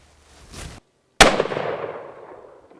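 Rifle gunshot on a youth hunt in Arizona, a single sharp crack outdoors preceded by a brief soft rustle, then a long fading echo rolling away.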